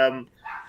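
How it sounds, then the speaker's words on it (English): A dog barks once or twice, short and fairly close, in a brief burst from the background of a home. "sorry about the dog barking in the background"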